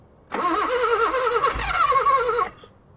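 1974 Honda Civic engine cranking and briefly catching after sitting parked for 14 years, a loud, close, rough starter whirr and sputtering run lasting about two seconds before cutting out.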